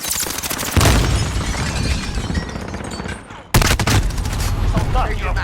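Video game battle with a grenade and gunfire: dense rapid shots rattle close and loud, broken by a short lull, then a heavy boom and more bursts of fire.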